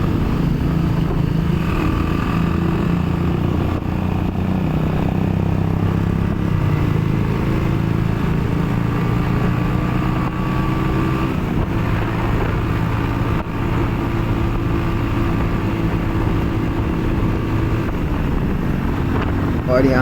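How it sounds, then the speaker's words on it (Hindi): A motorcycle is pushed toward its top speed on a straight road, its engine droning steadily under heavy wind buffeting on the microphone for the whole stretch. "मैं अपनी बाइक को टॉप एंड में एक बार टेस्ट करना चाह रहा था कि कितनी स्पीड दे सकती है।"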